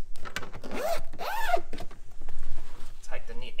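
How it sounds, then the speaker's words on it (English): A cargo net bag's zipper is pulled open in the boot of a 2019 Subaru WRX STi, giving two close, loud rasping runs followed by quieter handling, with a voice speaking briefly over it. "we'll unzip this"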